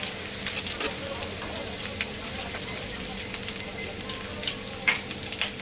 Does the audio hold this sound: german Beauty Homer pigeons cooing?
no